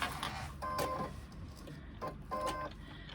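Sewing machine stitching a fabric pouch seam at a quarter-inch allowance, two short whirring runs of the motor separated by a pause, fairly quiet and close.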